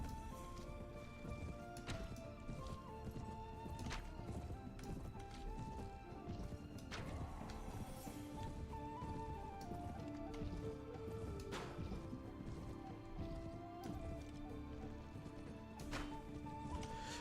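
Horse galloping in Mount & Blade Warband with the Pendor mod, rapid rhythmic hoof clatter running continuously and close, with occasional neighs and faint clashing effects layered over it.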